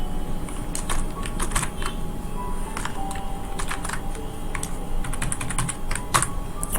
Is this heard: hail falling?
no